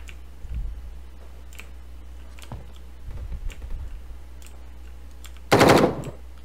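Guns firing in the mobile shooter game Standoff 2: a few faint scattered shots early on, then one loud, close burst near the end over a low steady hum.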